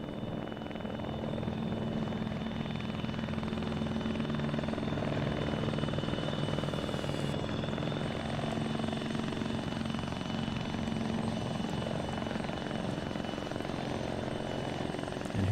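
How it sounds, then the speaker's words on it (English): A helicopter in the ARMA 3 video game sets down on a helipad, its rotor and engine giving a loud, continuous, steady drone that stays close throughout. "Helicopter sitting down on the waypoint,"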